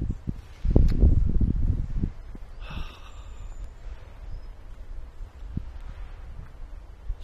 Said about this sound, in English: Is the wind gone yet?